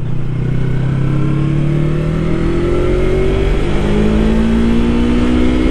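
A 2019 Yamaha R3 motorcycle engine is heard while riding on an open road, a loud, steady, close drone whose pitch slowly climbs as it accelerates through a gear, with no voices.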